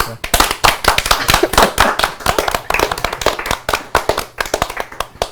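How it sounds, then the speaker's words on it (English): A small group claps for a colleague named Mary, sharp close hand claps in a quick, uneven burst that keeps going from start to end at a fairly loud level. "Should we clap Mary for all her hard work?"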